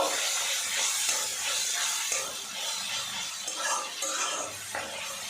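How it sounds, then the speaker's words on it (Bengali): Spice paste sautéing in hot oil with a dense, steady sizzle and hiss, occasionally broken by light stirring and utensil scrapes, close and continuous throughout. "মশলাটা কষিয়ে নেব।"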